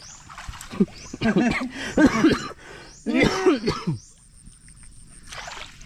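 Someone nearby coughs and clears their throat several times in quick, harsh bursts, followed by a faint hiss.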